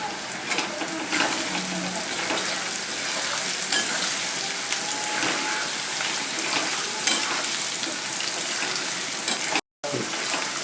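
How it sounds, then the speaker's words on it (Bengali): Garlic frying in oil for a garlic pickle, a steady close sizzle with stirring and faint clatter throughout, broken by a brief silent gap near the end. "রসুনটা ভাজা হয়ে গেছে বেশি ভাজবো না"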